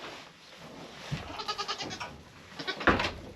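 A goat bleats nearby in a few wavering, pulsing cries, ending with a louder, sharper bleat; no talking.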